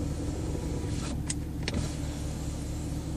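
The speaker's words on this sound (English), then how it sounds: "I can roll that back window up and down anytime I want while I'm driving" A car's rear power window whirs briefly with a faint motor hum and a couple of soft clicks, set against a steady, fairly quiet hum from the moving car's cabin.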